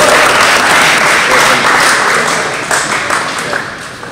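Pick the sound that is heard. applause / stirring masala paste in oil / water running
applause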